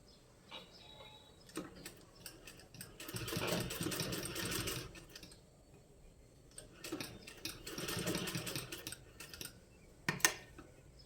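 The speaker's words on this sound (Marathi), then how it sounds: "अशा प्रकारे आपण सगळे स्क्वेअर स्टिच करून घेणार आहेत दाब शिलाई मारून" A sewing machine runs in two long bursts as it top-stitches fabric squares for a pant bottom design, a fast, close rattling whir separated by quiet pauses and brief clicks of handling.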